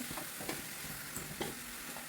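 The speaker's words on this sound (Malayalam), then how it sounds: "ഇത് പെട്ടെന്ന് വറുക്കും." Green chili and onion fry in a pan for a Kerala-style spinach thoran. The sizzle is faint, with a few quick stirring scrapes over two seconds and no voices.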